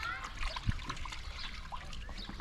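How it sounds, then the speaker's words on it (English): Water is soaped and sloshed in a washtub for a Victorian-style laundry wash at a historical village, with steady close splashing, dribbling and trickling throughout. "So I'm going to soap up my water."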